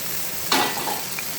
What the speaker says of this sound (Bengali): এবার ঝিঙেটাকে নেড়ে চেড়ে একটু ভেজে দেবো।